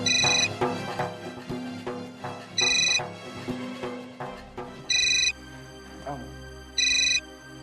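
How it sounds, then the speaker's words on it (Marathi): A phone rings in a home with repeated electronic ringtone bursts at steady intervals, loud and close, while people talk over and between the rings. "फोन असाच वाजत राहू दे."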